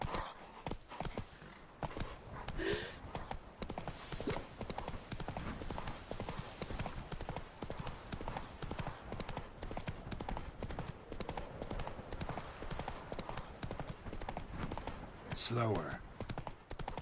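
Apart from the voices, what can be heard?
horse Roach trotting hooves, from video game The Witcher 3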